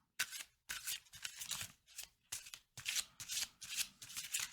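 Tarot cards are shuffled by hand before one is drawn, giving a run of crisp, close riffling bursts in quick succession with short gaps between them.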